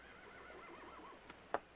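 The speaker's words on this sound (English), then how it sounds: "Take good care of this horse, amigo." A horse whinnies with a wavering, fluttering pitch for about a second, then lets out a brief sharp snort near the end. No voices.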